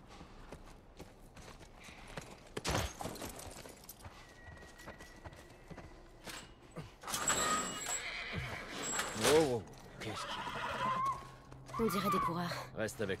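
A horse whinnies loudly amid hoof clops and movement, with a gasp and other rustling sounds around it, in the video game The Last of Us Part I.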